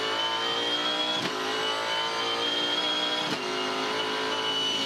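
On-board with a Supercars race car at the 2014 Auckland 500, the engine screams at high revs, loud and close, with two brief gear shifts dipping the pitch before it climbs again.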